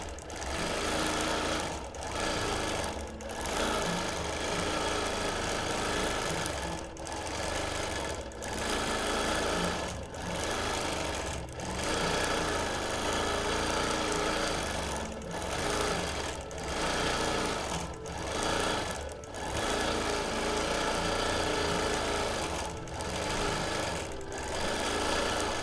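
Home sewing machine stitching a ribbon candy quilting pattern with ruler work on a quilt, a steady fast whirring hum that runs nearly the whole time, broken by brief pauses and restarts.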